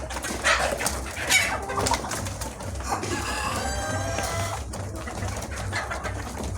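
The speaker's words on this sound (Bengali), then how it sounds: "দেখেন মুরগিগুলো খাবার খাচ্ছে" A flock of chickens clucks and murmurs while eating feed, a dense continuous chatter of overlapping calls with occasional brief louder squawks close by.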